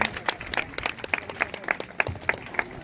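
Steady audience applause with rhythmic clapping at a village student award ceremony, fairly even and sustained for the whole stretch, with no voices over it.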